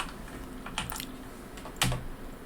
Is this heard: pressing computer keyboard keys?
yes